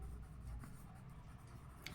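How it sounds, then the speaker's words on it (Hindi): Marker or chalk writing on a board in a classroom, soft continuous scratchy strokes with a brief sharper stroke near the end, no one speaking. "यहाँ लिखेंगे"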